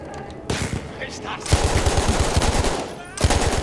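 Rapid automatic gunfire in the shooter game Battlefield 1 comes in several loud, close bursts of fast repeating shots separated by short pauses.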